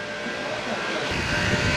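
A car-cleaning machine runs unevenly while dirt is worked off an abandoned nine-year-old Chevrolet Celta, a loud, rough, whooshing drone that surges and builds toward the end.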